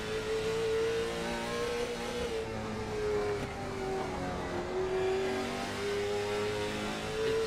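A late model race car engine at Hickory throwback night holds a loud, steady droning roar on the track, its pitch sliding slightly as it works through a corner, with no voices.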